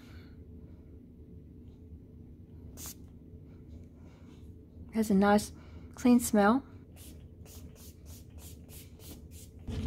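Two quick pairs of hissing spray bursts from a capped pump-style odor-control spray bottle, near and crisp, with a voice speaking quietly around them.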